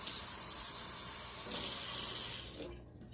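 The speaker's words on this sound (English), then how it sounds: "So I have 1, so we're up to 7 cups of water now, and I might just do 8." Kitchen tap water pouring steadily into a soup pot in a sink, a bright continuous rush that holds for over two seconds, then cuts off as the faucet closes.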